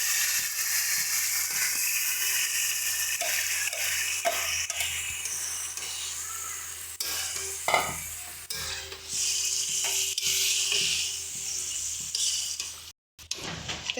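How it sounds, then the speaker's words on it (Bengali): Marinated chicken sizzles and fries in a pan with golden fried onions for Hyderabadi green chicken, a steady close hiss broken by stirring scrapes and clinks of a spoon against the pan. "দেখো চিকেন কিন্তু আমাদের সুন্দরভাবে ফুটছে"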